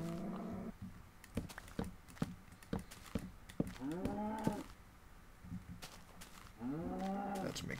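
Cows in the Minecraft video game moo in two long, drawn-out calls, one midway and one near the end, with clicks and footstep-like taps of play scattered between them.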